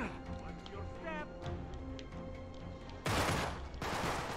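Gunshots in the video game Uncharted: Drake's Deception, two loud bursts of rapid fire near the end, after quieter game sounds and faint tones.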